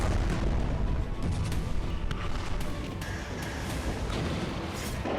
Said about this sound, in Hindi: बेहद ही प्रचंड अंदाज में आईडीएफ खान यूनिस पर गोला बारूद बरसा रही है।